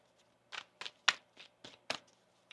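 Tarot cards shuffled by hand, six or seven crisp riffling bursts in an uneven rhythm, close and clear with no talk.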